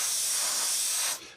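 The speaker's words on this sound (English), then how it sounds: "we just spray down these sides and use it up" An airbrush sprays leftover paint onto a 1/48 scale SU-25 model aircraft, a steady close hiss lasting about a second before cutting off.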